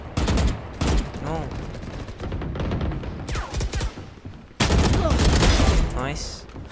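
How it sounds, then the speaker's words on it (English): Rapid bursts of gunfire in an online shooter video game, loud and close, with clustered volleys and a brief pause before a heavy sustained stretch of shooting. "I was shooting another man."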